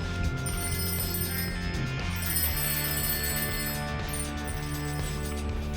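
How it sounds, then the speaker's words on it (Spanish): A handlebar lever bell on a 1983 BH Running Bull bicycle rings in a rapid, continuous metallic trill like an old telephone bell, loud and close, with a brief break partway through. "se trata nada más y nada menos que de un timbre"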